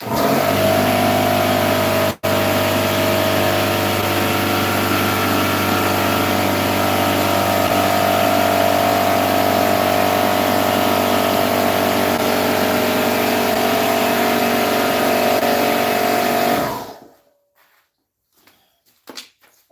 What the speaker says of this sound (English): you're gonna hear a little bit of noise because I need my air to compress